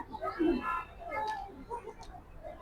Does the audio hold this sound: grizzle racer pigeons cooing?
yes